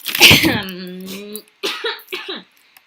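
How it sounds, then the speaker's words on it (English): A harsh cough bursts out close by, followed by voiced throat noises and a couple of shorter raspy coughs. "I am coughing a lot"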